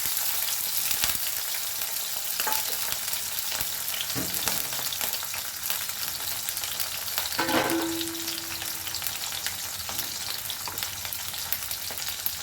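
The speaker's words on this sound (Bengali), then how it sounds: "করলাটা ভাজা হয়ে গেছে" Bitter gourd frying in mustard oil in a wok gives a dense, steady sizzle that runs the whole time, with a few brief utensil knocks and stirring scrapes, close up and with no voices.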